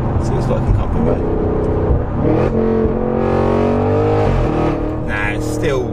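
An Audi RS6 tuned to about 700bhp, fitted with an Armytrix stage 2 exhaust and set in comfort mode, drives with loud, rumbling exhaust and shifting revs that rise and fall close up throughout.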